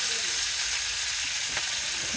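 Pakoras fry in hot oil while cooking for a village wedding feast, giving a steady close sizzle that stays even and continuous throughout.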